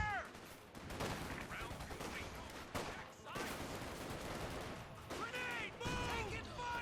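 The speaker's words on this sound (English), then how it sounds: "Bit of shooting there." Gunfire in a Company of Heroes 2 match, bursts of rattling small-arms and machine-gun fire mixed with battle noise, while a voice talks over it.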